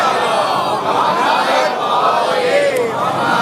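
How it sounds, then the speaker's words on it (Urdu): Worshippers gathered in an imambargah for a majlis raise salawat loudly in unison, a thick, echoing wall of many voices chanting together, steady and close throughout. "اچھا اگر سمجھ گئے ہیں تو اور اب آواز بلند صلوات پڑھیں."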